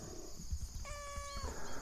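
A cat meows once, a clear rising-and-falling call near the middle, heard close by outdoors over steady background noise.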